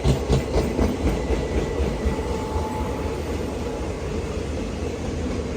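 The Mangaluru–Trivandrum Maveli Express rolls past close by in a continuous loud rumble, with rhythmic clickety-clack of wheels over rail joints, strongest at the start and holding steady, with no voices.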